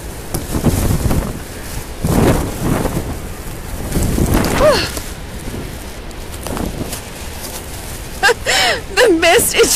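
Broad roaring wash of Niagara Falls and its drenching mist heard from a Hornblower cruise boat, a steady rushing hiss throughout, with people talking and exclaiming over it.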